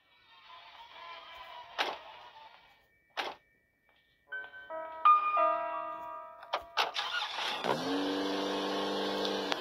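Car engine starting in the horror video game Granny, a few scattered clicks and mechanical clunks, then a short tonal sequence, ending with the engine catching into a steady loud hum.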